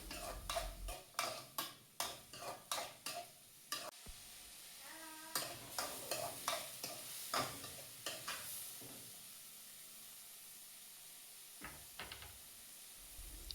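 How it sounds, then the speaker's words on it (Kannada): Tomatoes frying in oil in a pan for capsicum rice, stirred in a quick burst of close scraping taps over a sizzling hiss that then settles into quieter frying with a few later clicks. "ಟೊಮೆಟೊನೂ ಅಷ್ಟೇ ಸ್ವಲ್ಪ ಬೆಂದು ಮೆತ್ತಗಾಗೋ ತನಕ ಅದನ್ನ ಫ್ರೈ ಮಾಡ್ಕೊಳ್ತಾ ಇರಿ."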